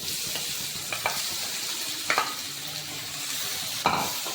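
Grated sweet potato sautés in ghee with browned dry fruits over a medium flame for sweet potato kheer, with a continuous close sizzle and several distinct spatula scrapes and knocks against the pan.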